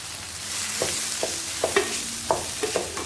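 Onion and pepper fry in a pan as kefta is added, a soft sizzle under a series of light stirring scrapes and taps.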